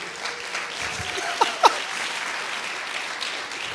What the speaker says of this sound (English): let's give a round of applause for Anthony and his sister.